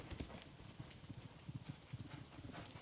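Horse hooves clip-clopping at a racing stable, a quiet, steady run of hoofbeats on a hard surface with no talk.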